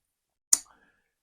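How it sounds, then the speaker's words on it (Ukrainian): A spinning fishing reel's drag gives one sharp, close click as it is adjusted, a single short tick against silence. "одне клацання, коли ви налаштовуєте фрикціон"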